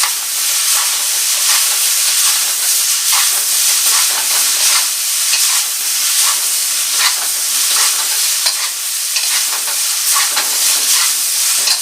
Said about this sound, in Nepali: एकछिनसम्म फ्राई गर्नु होला यसलाई।